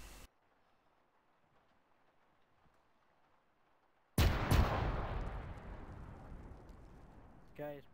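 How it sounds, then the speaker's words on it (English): Breaching charge going off in the video game ArmA 3, a sudden loud blast after several seconds of near silence, followed by a long rumbling decay, with a voice rising at the end. "Breaching in 3. Fire in the hole."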